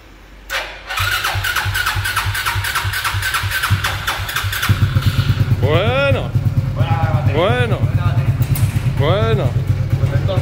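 A motorcycle that has sat unused for a couple of months cranks with a starter whine, fires up and settles into a loud, steady idle with occasional blips, while people talk in Spanish over the engine.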